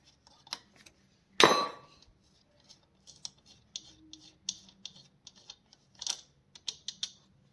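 Metal clinks and light ratcheting taps from a spanner undoing the 8 mm carburetor nut on a Hero HF Deluxe motorcycle engine, one sharp clatter early on and then scattered small ticks and scrapes, close and fairly quiet.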